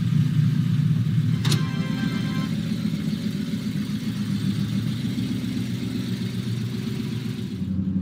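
A Chevrolet Camaro engine runs at a steady, rough idle nearby, a low throbbing rumble that holds level throughout, with one brief sharp click early on.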